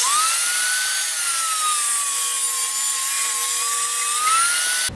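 A table saw rips through a sheet of plywood being trimmed for a crosscut sled. It gives a loud, continuous, high whine whose pitch sags a little under load and then climbs back, close up and with no voices.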